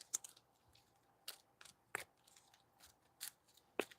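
A deck of cards being handled and set down, heard as quiet, soft flicks and dry clicks scattered irregularly, with sharper snaps now and then.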